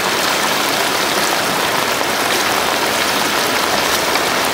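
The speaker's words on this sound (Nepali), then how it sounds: "यहाँ पानी गुटुङटुङ गइरहेको छ भन्ने हामीलाई लागिरहेछ" Water rushes through a stream near an irrigated cardamom field, a dense continuous hiss and gurgle, loud and close, with no voices.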